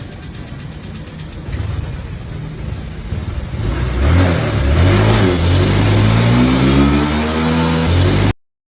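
A stock Honda Click scooter fitted with a new pulley set, center spring and clutch spring accelerates hard toward top speed. The engine drone climbs steadily in pitch and grows louder over several seconds, with no talking.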